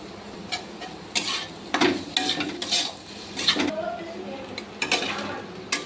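Watermelon rind fries in a pan with salt and turmeric, a soft sizzle under repeated scraping strokes and clinks of a spatula stirring, close and moderately loud, in irregular bursts.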